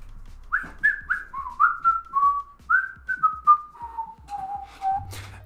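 Someone whistles a gliding, stepwise descending tune of a dozen or so notes, close and clean against near silence, alone without speech.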